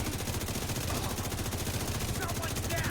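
Sustained rapid automatic gunfire in the video game The Division 2 during an Iron Horse raid boss fight, a dense continuous rattle of shots throughout, loud and close, with voices faintly mixed underneath.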